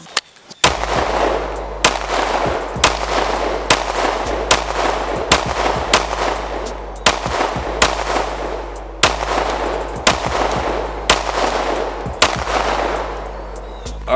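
A Glock 19 pistol fires 9mm rounds into a Level 3A backpack armor panel, a long string of loud, sharp shots in an uneven rhythm with brief pauses between bursts, close by and outdoors.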